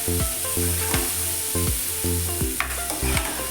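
Suran (yam) sabji sizzling in a pan with its tempering while being mixed, a steady loud frying hiss broken by regular scraping strokes of a spoon, close up and without speech.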